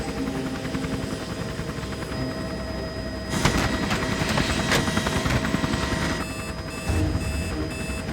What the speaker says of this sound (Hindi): हवा थोड़ी अपोजिट साइड है, हेलीकॉप्टर झटका ले सकता है, ध्यान रखना।